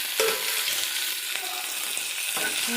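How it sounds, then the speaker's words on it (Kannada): Tomatoes added to an onion tempering for dal khichdi sizzle loudly and steadily up close, with a few sharp clatters from stirring. "ಸೊ ನೆಕ್ಸ್ಟ್ ನಾನು ಇದರಲ್ಲಿ ಟೊಮೆಟೊ ಹಾಕ್ಕೊಳಕತ್ತೀನಿ"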